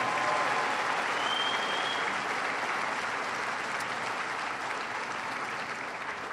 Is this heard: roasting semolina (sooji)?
no